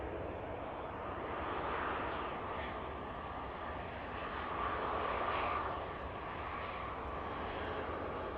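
A Saudi airliner arrives at Manchester Airport, heard as a faint, distant, continuous jet roar that swells gently twice without any sharp events.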